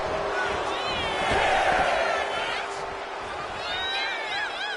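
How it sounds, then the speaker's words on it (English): A large arena crowd roars and whistles in a WWE wrestling video game, a broad sustained wash of cheering that swells and eases, with scattered shrill whistles and a thud. "And Buck is firing up the crowd here"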